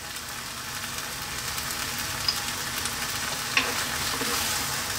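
Sardines and kangkong sizzle steadily in a hot pan while being stirred, a continuous close frying hiss with a couple of brief scraping clinks from the utensil, no voices.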